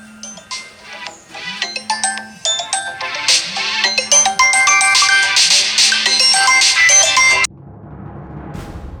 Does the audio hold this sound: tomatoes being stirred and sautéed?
no